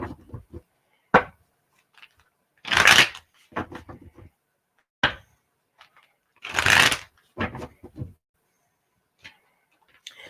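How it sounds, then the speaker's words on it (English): Tarot cards being shuffled in several quick, crisp riffling bursts separated by pauses, close and fairly quiet with scattered light taps. "4 cards"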